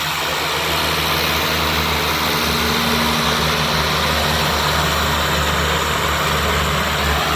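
A small ski-equipped plane runs its engine while rolling at an airport on a breezy day, a steady low drone and idle rumble held loud and close throughout with constant broadband wind and engine noise.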